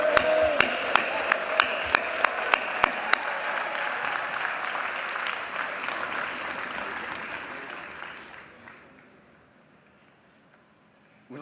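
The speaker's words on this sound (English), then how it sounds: "Please give him a round of applause." Loud crowd applause at a college commencement, with sharp individual claps at the start, sustained for several seconds, then fading away to near silence.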